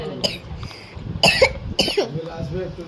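Two sharp, close coughs in quick succession, with faint talking in the background.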